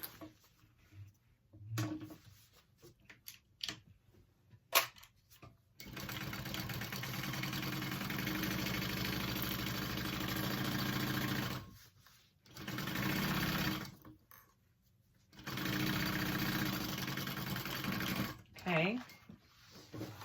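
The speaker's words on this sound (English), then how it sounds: "then you're going to sew it at a 1/4 inch seam allowance" A sewing machine stitches a handbag seam in long steady runs of rapid mechanical whirring, stopping and starting several times with short pauses between, close and prominent, while a person speaks during the gaps.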